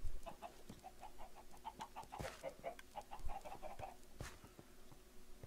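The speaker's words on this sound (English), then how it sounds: "That's a chicken farm, isn't it?" Chickens on a Minecraft farm clucking in a quick run of repeated soft calls, fairly close, with scattered clicks and no talk.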